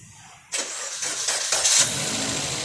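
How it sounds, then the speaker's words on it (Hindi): A car engine cranks briefly and then catches during a fuel injector circuit check, the starter's rapid rhythmic chugging building into a steady running engine, close and fairly loud with no talking. "ये देखो गाड़ी क्रैंकिंग हो रही है"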